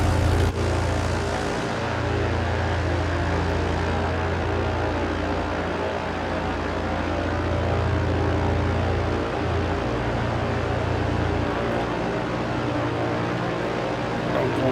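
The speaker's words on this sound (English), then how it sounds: "Let it spool up. Okay, we are now taxiing to runway 18 right." A Britten Norman BN-2 Islander taxis in Microsoft Flight Simulator, its propeller engines giving a loud, continuous droning hum that stays steady with slight shifts in pitch throughout.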